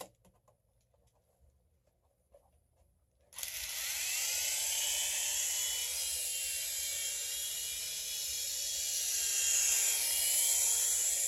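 A Propel Altitude 2-channel RC toy helicopter spins up after a quiet start and keeps flying, giving a steady, high-pitched whirring buzz with slight rises and falls in pitch, close and fairly loud.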